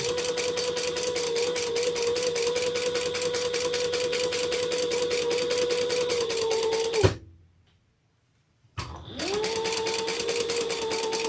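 A sewing machine stitches a Lola handbag with a steady, fast-running motor hum and needle clatter, stops abruptly for a couple of seconds of silence, then starts up again and keeps stitching.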